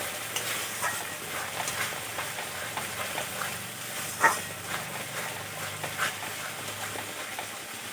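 Chilli powder and turmeric masala fry in oil and are stirred in a pan for a vegetarian curry, giving a quiet continuous sizzle with scraping spoon strokes and one brief clink.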